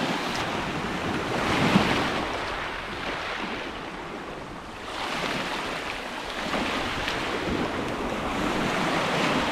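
Sea waves wash and break continuously on the beach at Silecroft, Cumbria, a broad steady surf roar with gusts of wind buffeting the microphone and no voices.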